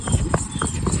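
A horse's hooves clip-clop on a road in Bihar, a steady run of sharp, close knocks over constant outdoor background noise.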